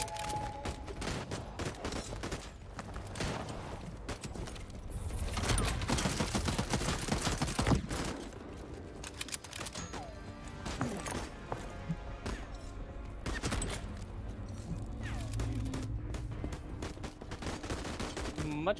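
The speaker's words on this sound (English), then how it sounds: "It's gunning time. Oh yeah, my bullets explode on armor." Rapid, sustained gunfire from the player's weapons in Voidtrain, bullets bursting against armor in dense overlapping volleys throughout, with a voice talking faintly beneath.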